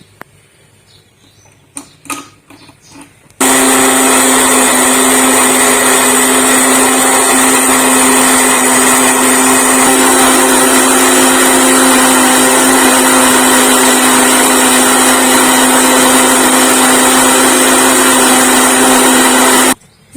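An electric kitchen grinder chops onions, running as a loud, steady high-pitched motor whine for about sixteen seconds after a few faint clatters, then cutting off abruptly.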